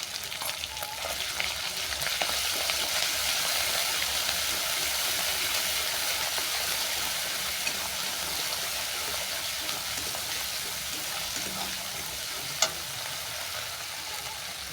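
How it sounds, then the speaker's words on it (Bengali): Ginger paste hitting hot oil with frying garlic paste in a pan, giving a steady, loud, continuous sizzle with faint stirring throughout and no talking. "রসুনের কাঁচা গন্ধ চলে যাওয়ার পর দিয়ে দিলাম আদা বাটা।"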